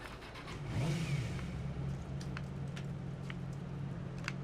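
A motorbike engine in Watch Dogs revs up briefly, a low rising growl that then settles into a steady mid-pitched idle hum, fairly quiet and alone.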